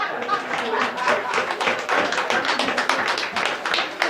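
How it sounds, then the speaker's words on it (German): A small crowd claps in a cozy pub venue, sharp individual handclaps close by forming brisk, uneven applause that continues for several seconds without fading. "Ja, Applaus!"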